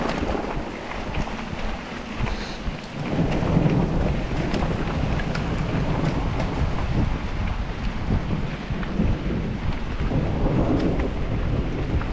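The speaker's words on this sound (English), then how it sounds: "there's a constant rumbling of thunder in the clouds overhead" Thunder from storm clouds overhead rolls continuously outdoors on a rocky trail, a deep, steady rumble mixed with rain and wind buffeting the microphone, loud and unbroken throughout.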